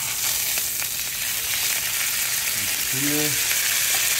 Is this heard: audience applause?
no